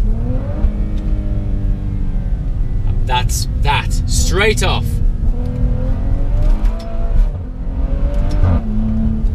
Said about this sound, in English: That's how an SUV should sound.